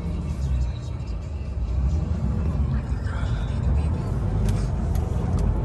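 A 2008 Lamborghini Gallardo idles and pulls away in gear with a loud, continuous low engine rumble that builds slightly, heard from inside the car.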